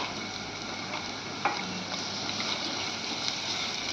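Onions sizzling and frying in a pan while being stirred, a steady close hiss with occasional faint scrapes and taps of the spatula.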